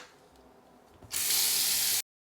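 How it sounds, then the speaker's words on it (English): Water gushes steadily from a faucet into a bathroom sink, a loud, even hiss that starts abruptly after a quiet moment and cuts off sharply. "Now we're ready to run some water."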